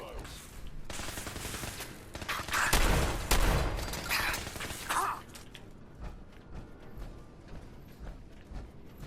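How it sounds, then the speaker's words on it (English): Enemy energy weapons fire in the Fallout 4 video game, with a dense run of rapid shots and bursts, loudest in the middle, fading to scattered sparser firing toward the end. "these guys are using energy weapons"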